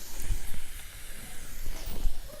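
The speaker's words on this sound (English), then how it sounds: "Just wait for it to fizz down." Carbonated soda fizzing in a glass while a Shirley Temple is mixed, a steady soft hiss of bubbles heard up close, with faint handling thumps and no talk.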